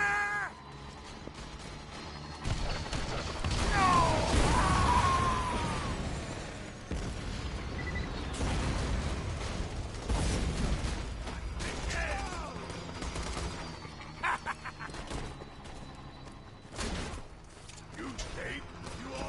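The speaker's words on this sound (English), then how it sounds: "I really liking this new SMG that I picked up" Rapid SMG gunfire rattles in bursts inside Borderlands, mixed with mechanical clanks, creaks and other game effects, with loud flurries early on and sporadic shots continuing throughout.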